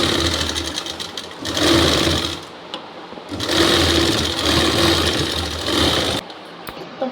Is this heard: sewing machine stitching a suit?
yes